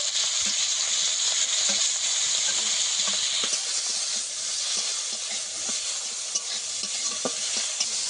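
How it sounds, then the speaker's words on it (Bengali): Prawns sizzle steadily in a little oil in a wok, a dense close frying hiss with occasional light stirring scrapes and no voices. "কড়ার মধ্যে সামান্য তেল দিয়ে দেবো, দিয়ে চিংড়ি মাছটা ভেজে নেব"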